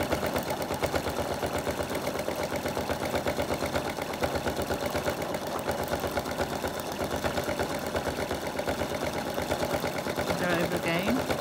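A sewing machine doing free-machine embroidery on a vintage caravan design runs with a fast, even rhythmic whir and tapping throughout, fairly close, while someone talks over it.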